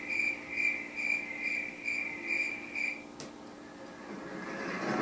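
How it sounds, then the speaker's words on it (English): A Letsfit white noise machine plays a crickets track, a steady pulsing high chirr repeating in even beats over soft hiss, fading into noise near the end. "Crickets."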